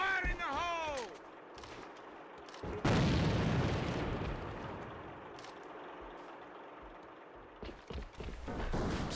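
A grenade detonates in the shooter game Alliance of Valiant Arms: a sudden loud blast partway through that decays into a long rumbling tail, with a commentator's voice faint in the background.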